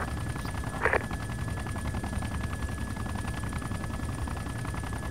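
Helicopter gunfire in ArmA 2, a brief burst of shots near the one-second mark over a constant loud rotor and engine drone, close air support against a technical at a crossroads.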